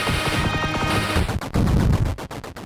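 Rapid plane gunfire from the shoot 'em up video game Luftrausers, loud, dense, continuous bursts that cut off and restart in short choppy stutters near the end, with no talking.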